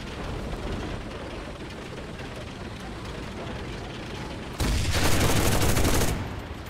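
Machine gun fire in the WWII video game Enlisted, with a Panther G tank in play: a loud, dense burst of about a second and a half breaks over a steady rumbling background of distant battle.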